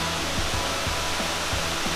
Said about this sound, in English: So as you can probably tell by the sound, we have made it to the waterfall